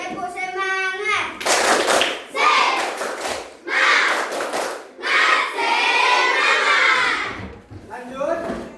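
A group of children claps a rhythmic spirit clap in repeated bursts of quick, loud hand claps, mixed with their chanting voices in a classroom.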